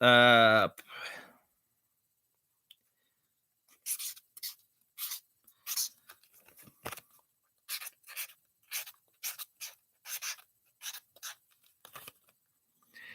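Pen writing on paper, close and crisp, in a series of short scratchy strokes in irregular rhythm, following a brief burst of voice at the start.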